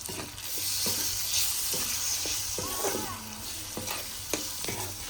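Cumin, red chilli, turmeric and salt sizzle in hot oil in a pan for a mungre (radish pod) and potato curry, with a steady fry hiss and repeated scraping stirs of a spoon close by, and no talk.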